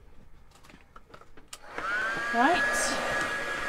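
A heat tool blasts on to dry Golden black gesso, a loud steady whooshing hum with a rising whine, following a few soft taps and a brief spoken word.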